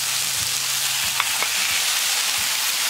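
Garlic and tomato sizzle steadily in a frying pan in a dish of aubergines, a constant broadband crackle with a few soft scrapes and clicks of stirring, and no one speaking.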